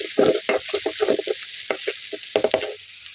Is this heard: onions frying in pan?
yes